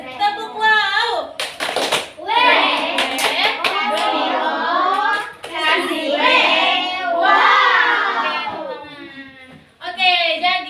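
Schoolchildren in a classroom perform a call-and-response clapping chant, their voices chanting in unison loudly and close, punctuated by sharp bursts of rhythmic hand claps between phrases.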